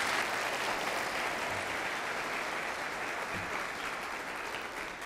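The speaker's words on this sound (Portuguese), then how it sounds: "Pelo menos uma salva de palmas para ela, não?" Warm, steady applause from a community audience for a woman named Raquel, dense continuous clapping sustained evenly for about five seconds with no talk over it.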